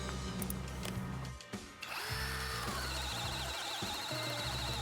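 A Flex FX1151-2A cordless drill with a Forstner bit whirs and bites into wood, briefly stalling and restarting, then grinding steadily as the bit cuts through.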